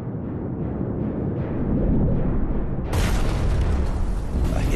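A torpedo strike on an oil cargo tanker at sea, a deep sustained rumbling explosion and roar of fire that swells and turns harsher and brighter partway through.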